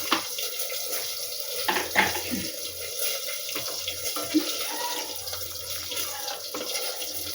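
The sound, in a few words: hot water poured into lentils in pot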